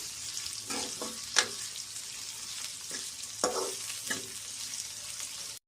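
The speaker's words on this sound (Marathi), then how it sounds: "आता टाकायचं आपल्याला कांदा। कांदा याच्यासाठी नंतर घेतलेला आहे कारण तो जळतो, आधी नाही घ्यायचा। कांद्याला हलवून घ्यायचं छान।" Onion with green chillies fries in a pan, a continuous close sizzle broken by several sharp scraping stirs of a spoon against the metal, with no talk.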